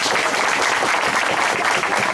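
A crowd at a public municipal hearing in Atoyac applauds an honour student, dense, loud clapping sustained from start to finish in a short burst.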